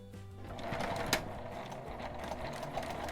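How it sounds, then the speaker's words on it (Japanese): A sewing machine runs steadily while edge-stitching a washable fabric face mask from the right side, a quiet continuous mechanical whir with rapid needle ticking, close and alone. "表側から端ミシンをかけます。"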